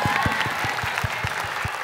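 A studio audience at a Voice Indonesia knockout-round show applauds after a performance, a bright, steady mass of clapping over regular low thumps that suggest a beat or rhythmic stomping.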